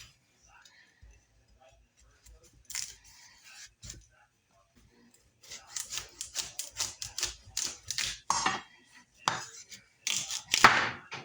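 A kitchen knife cutting the end off a spaghetti squash, with sparse scraping taps at first, then a dense run of sharp, close chopping clicks and crunches against a cutting board, mixed with brief talk.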